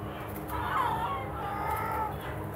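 Chickens in a crowded poultry farm shed give soft, continuous clucking and murmuring calls, with a faint higher call rising briefly twice over a steady background hum of the house.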